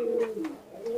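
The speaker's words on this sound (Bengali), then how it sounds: "এটা আমার একটি গোল্ডেন কবুতর" A golden pigeon in a loft coos in a low, steady drone with a few soft rising notes, close and fairly quiet, with no voices over it.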